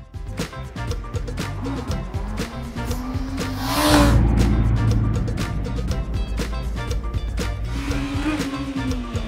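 A Honda Hornet roadster motorcycle engine revs steadily through a rear-wheel wheelie, surging louder around the midpoint and then holding a strong, continuous drone.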